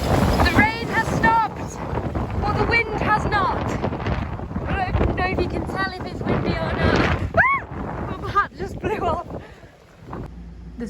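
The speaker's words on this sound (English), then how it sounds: "The rain has stopped, but the wind has not." Strong wind after a storm in Coron, Palawan, Philippines, buffets the microphone with a steady rushing roar, while voices talk over it throughout.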